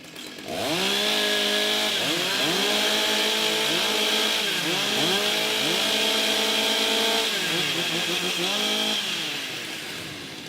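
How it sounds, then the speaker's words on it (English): Several chainsaws warming up at a women's timbersports competition, loud overlapping two-stroke engines revving up and down in repeated rising and falling whines that fade slightly at the end. "Warm up your saws."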